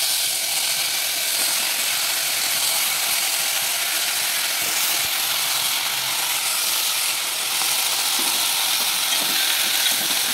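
Tomatoes hitting hot oil in a pan for mint tomato chutney, a steady broad sizzle and crackle of frying that continues close up without talk.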